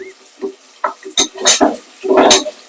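Tomatoes sautéing in a pan in a home kitchen, with a spoon scraping and stirring in short separate bursts, soft sizzling between strokes, close and clear with no talk.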